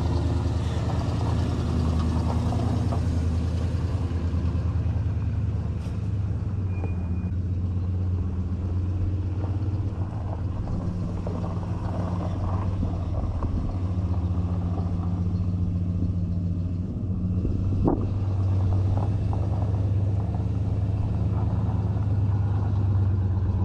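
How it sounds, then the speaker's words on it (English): A truck engine rumbles steadily and close by while it drags an old mailbox out of the ground with a chain, a continuous low idle with slight surges and no talking. "So we're gonna use the chain and the truck. We're gonna pull it out of here."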